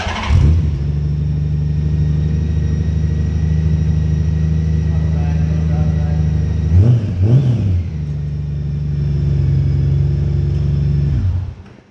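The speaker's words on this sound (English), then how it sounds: "Let's fire it up for that CSC exhaust." A 2010 Honda GL1800 Goldwing CSC Cobra trike with a CSC exhaust starts up close by and settles into a loud, steady idle. It gives a couple of quick throttle blips before shutting off.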